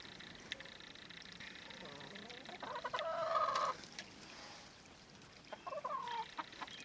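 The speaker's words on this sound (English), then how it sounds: "No, escaping chickens. Escaping chickens." Backyard chickens clucking and squawking around a homemade suet block, with a brief louder burst of calls midway and more clucking near the end, mixed with light background noise.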